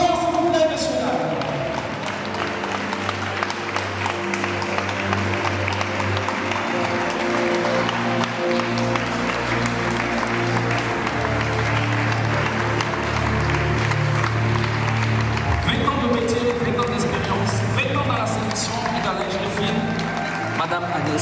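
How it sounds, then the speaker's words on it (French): An audience claps steadily and loudly through a lingerie fashion show in Tours, the applause running continuously under music and a voice talking. "Je vous prie d'applaudir fort"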